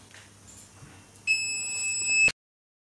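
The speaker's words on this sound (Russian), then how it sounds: "Пресс дал сигнал, что все готово." A heat press sounds a single sustained high electronic beep, lasting about a second and cut off abruptly, to signal that a reflective heat-transfer film has finished pressing onto a T-shirt, after a quiet room-tone lead-in.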